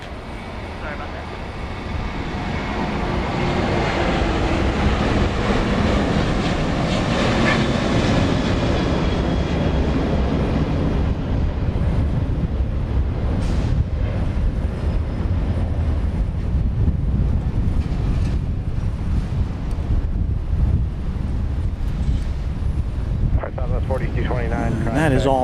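A Boeing 737-700 airliner taxis at Dallas Love Field airport, a loud, broad engine roar that swells within the first few seconds and then holds steady, with wind buffeting the microphone.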